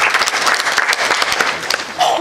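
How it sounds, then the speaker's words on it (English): An audience at a student affairs expo gives a brief round of applause, lively clapping from a crowded room with voices mixed in, tailing off after about two seconds. "Another round of applause for"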